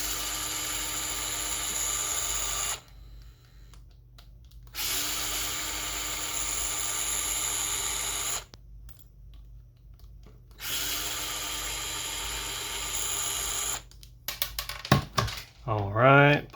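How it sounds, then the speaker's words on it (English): Three long bursts of a whining power drill driving screws on an FPV drone, running steadily, separated by short pauses, then a few quick clicks and rattles near the end. "The power drill makes life so much easier."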